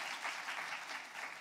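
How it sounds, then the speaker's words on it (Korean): Steady applause from a church congregation, dense and even throughout, celebrating children who won medals at a Bible recitation and quiz competition. "박수 받을 만하죠, 그렇죠?"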